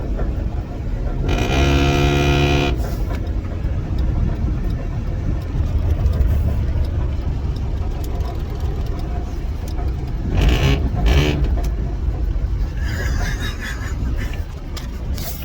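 An old, beat-up Honda car's engine runs loudly and close, its steady mid-pitched drone rising in a few revving bursts, with a brief voice heard over it.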